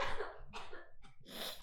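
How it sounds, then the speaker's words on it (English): A person's sneeze in a casual indoor conversation setting, heard as a few short bursts of breath across under two seconds, close and fairly quiet, with no talking during it. "I have to sneeze."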